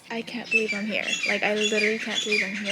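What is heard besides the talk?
birds chirping outdoors in Hawaii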